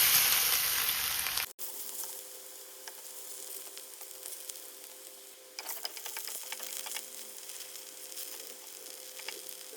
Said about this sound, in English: I'm also gonna fry up some plantains.